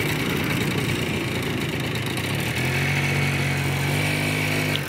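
A two-wheeler engine runs steadily near the mic during a women's driving-school lesson in Madurai, its hum rising in pitch midway as the learner rider gives it more throttle and holds it, with no talk over it.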